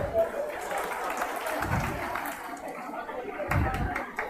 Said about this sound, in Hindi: इनके लिए ताली बजाओ